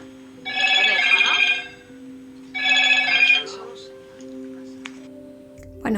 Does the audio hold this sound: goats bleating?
no